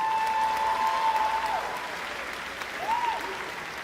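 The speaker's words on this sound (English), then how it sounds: "that wonderful faculty and staff that's behind us that we should give a real round of applause to" Applause from a commencement audience for faculty and staff at a high school graduation ceremony, a steady wash of clapping heard from a distance, with a faint voice or tone drifting through.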